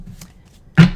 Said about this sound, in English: two more shuffles. 2 more shuffles here.